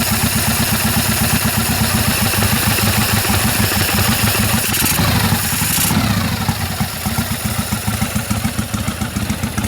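A 1948 Harley-Davidson FL Panhead motorcycle engine idles close by with a steady, rapid, even beat, running unbroken through the whole stretch with a slight shift in tone midway.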